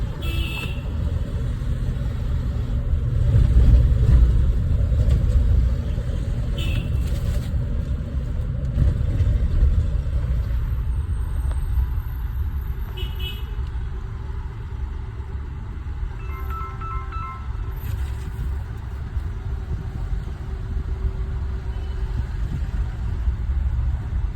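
A Mahindra Bolero B6 Opt SUV's three-cylinder engine idles steadily with a low, continuous rumble, close by and unbroken throughout.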